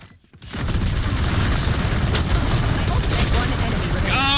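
Gunfire erupts in a Valorant match after a brief quiet moment, becoming a loud, dense, continuous barrage of shots and blasts at close range.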